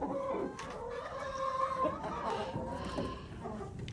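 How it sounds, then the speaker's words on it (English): Backyard chickens cluck and murmur continuously nearby, overlapping warbling calls rising and falling with a faint outdoor background. "Here, chickens."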